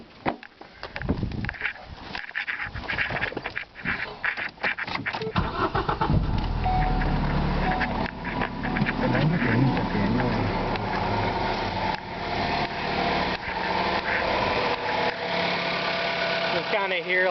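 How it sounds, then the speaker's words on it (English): A Plymouth Sundance with a transmission fault cranks and starts about midway, then settles into a steady, rough idle with a rumbling chatter. Knocks and handling noises come first, and the engine runs loud and close to the end. "You kind of hear like a chattering noise, and it's coming from the transmission."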